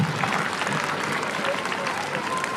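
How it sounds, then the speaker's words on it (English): Brief burst of crowd applause at a school investiture ceremony, dense continuous clapping from a sizable audience at a fairly even level. "give a huge round of applause"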